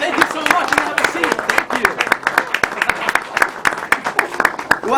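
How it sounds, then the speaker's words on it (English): Close, lively applause follows a magic trick at a community gala, with many hands clapping in a dense, uneven patter and voices speaking over it throughout. "And let's give her another big round of applause, ladies and gentlemen."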